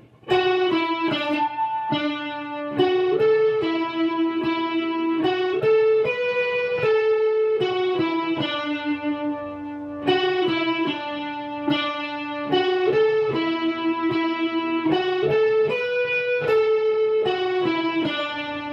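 An electric guitar with effects plays the sustained lead melody of "Come Thou Fount", notes stepping up and down in a steady rhythm, loud and up close with no voices.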